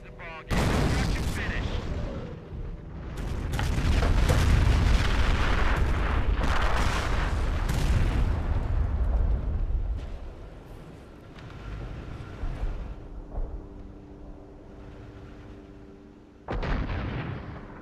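Company of Heroes M7 Priest howitzers firing, heavy booming artillery blasts that roll into a long rumbling barrage, then fade before another loud shot near the end, with voices chatting throughout.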